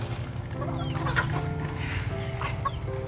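Several chickens cluck steadily close by, with chicks peeping and a low background murmur throughout.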